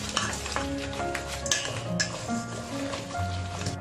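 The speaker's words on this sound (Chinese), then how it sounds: "给它搅拌均匀" Egg batter with salt, Sichuan pepper powder and thirteen-spice seasoning is stirred in a bowl, making continuous wet, squishy churning with light clinks against the bowl. The stirring carries on steadily throughout.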